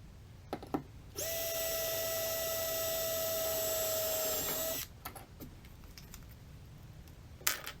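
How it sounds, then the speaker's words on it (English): A close power drill drilling a hole in a kayak runs in one steady, high-pitched whine for several seconds, then stops, leaving a few faint clicks and taps. "While we drill our other hole."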